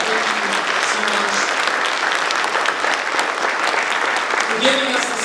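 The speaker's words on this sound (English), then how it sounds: "give just a round of applause to our officers" An audience at a town hall in Asbury Park claps steadily for about five seconds, a thick, continuous patter of many hands, with a voice briefly heard over it near the start and end.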